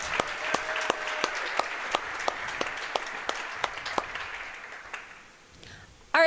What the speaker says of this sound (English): Please, a round of applause for Miss Reagan Porter.